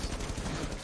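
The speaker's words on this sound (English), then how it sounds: "It's gunfire raining out on both sides." Rapid automatic gunfire in a competitive video game match, a dense sustained burst of overlapping shots filling the short moment at moderate level.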